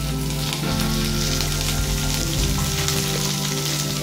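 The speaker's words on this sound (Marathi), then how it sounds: "तेल गरम झालं, यात आपण फरसबी घालतो" Cut green beans dropped into hot oil in a wok, a loud continuous sizzle and crackle with a low steady hum underneath, close and unbroken.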